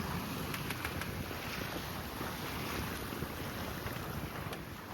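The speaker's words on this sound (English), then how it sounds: "it's nice to have a little bit of wind all of a sudden" Wind roars steadily across the microphone aboard a sailboat, a loud, continuous rushing with faint water noise beneath it and no talking.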